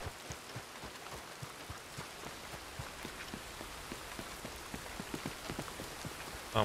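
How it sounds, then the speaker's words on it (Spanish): Steady rain patters outdoors in wild terrain, with many distinct drops striking a nearby surface in a loose, irregular rhythm over a soft hiss, and a brief louder knock at the very end. "Claro, también el hecho de que esté lloviendo no ayuda."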